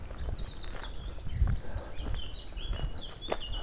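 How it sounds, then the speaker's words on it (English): Birdsong in the countryside around a Saxon village beside trickling water over rocks, with repeated high chirps and twitters running continuously at moderate loudness over a soft low background rumble. "Bird song."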